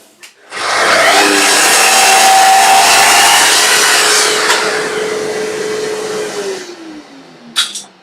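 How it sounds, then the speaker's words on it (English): A drop saw fitted with a combination crosscut/rip blade cuts through a piece of wood, giving one loud, sustained whining cut of about six seconds that winds down as the blade spins to a stop. "the blade that I'm using on the drop saw is a cross between a crosscut saw and a ripping saw blade"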